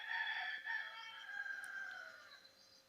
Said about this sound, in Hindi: ये मैंने अपने घर ना एक मुर्गा रखा हुआ है, इसकी आवाज़ें आती रहेंगी